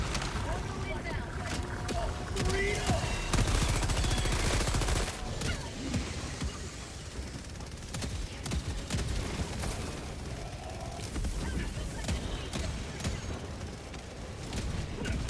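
Gatling sentry gunfire in the video game Helldivers 2, a dense, continuous rattle of rapid shots throughout, heaviest early and easing slightly later, with game sounds and voices mixed over it.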